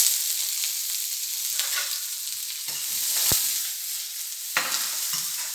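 Pepper and onion fry in a pan with a steady bright sizzle, with a few soft stirring scrapes and clacks standing out alone.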